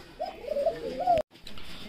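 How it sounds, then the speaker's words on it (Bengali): Muffed helmet fancy pigeons cooing at a pigeon farm, several soft rolling coos close by, broken by a brief gap before faint background noise resumes. "এটা মাফেট হেলমেট কবুতর আমরা দেখতে পাচ্ছি"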